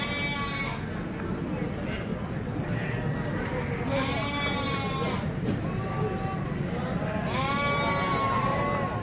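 Goats at a breeding farm let out several wavering, harmonic bleats at intervals, rising above a constant murmur of farm background noise while people talk nearby.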